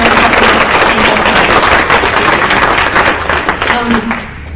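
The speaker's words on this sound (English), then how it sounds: "let's give a round of applause for our sponsors" Audience applause for event sponsors at a talk hosted at UW Tacoma, loud dense clapping close by that carries on steadily, with a murmur of voices beneath, and eases off at the very end.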